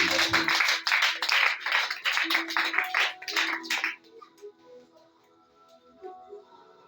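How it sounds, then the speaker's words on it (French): A church congregation claps in rhythm to acclaim the Lord, bright and steady for about four seconds, then fades into quieter tapping and faint sounds. "Acclame pour le Seigneur."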